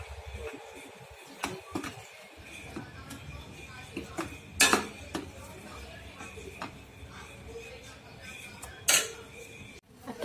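Masala being sautéed in oil in a pan for a village-style egg curry, a soft steady sizzle broken by a couple of sharp metallic clinks of a spoon on the pan, with no talking.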